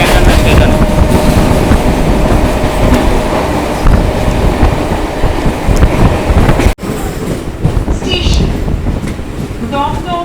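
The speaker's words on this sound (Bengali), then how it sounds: "আমাদের ট্রেনটা এখন ঢুকছে হচ্ছে দমদম" A Sealdah–Bangaon line local train pulls into Dum Dum station, a loud, steady rumble of wheels and carriages on the rails, with a brief dropout partway through before the rolling noise returns.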